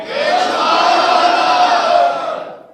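A large gathering at a majlis for the martyrdom day of Fatima Zahra shouts a religious slogan in unison, a loud, sustained massed roar of voices lasting a few seconds before trailing off.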